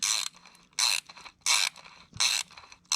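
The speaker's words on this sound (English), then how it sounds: "Let me get the ratchet for you." Ratchet loosening a bolt on a Ford Flex timing cover: four bursts of rapid clicking, each about half a second long, evenly spaced with quiet gaps, close and fairly loud.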